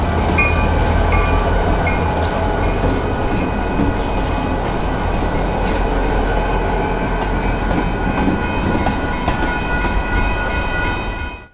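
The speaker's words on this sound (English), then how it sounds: "This train is pulling out of Canadian Pacific's former Milwaukee Road, Bensonville Yard." An eastbound Union Pacific transfer train pulls out of Bensenville Yard in Franklin Park, Illinois, a loud, steady rumble of engine and rolling railcars with faint wheel clatter, continuous and close for the whole stretch.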